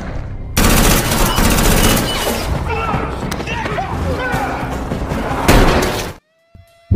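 Dense bursts of gunfire and crashing impacts fill a movie fight scene, loud and continuous for about six seconds before cutting abruptly to near silence, with a final thud at the end.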